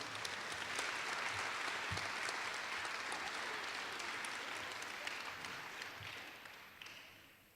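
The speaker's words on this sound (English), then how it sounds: "Let's have another round of applause for all of our department winners." Sustained audience applause at a school awards ceremony honoring department winners, a dense steady wash of many hands clapping that fades slightly toward the end, with no voices on top.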